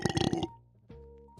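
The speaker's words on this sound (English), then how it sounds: "I'm gonna burp." A single loud, close burp with a rough, low gurgling tone lasting about half a second, followed by quiet and a faint voiced sound.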